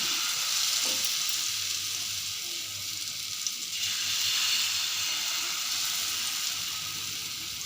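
Thin mixed-flour damti batter fries in a pan over medium heat with a constant, even sizzle and hiss that swells slightly midway, with no voices.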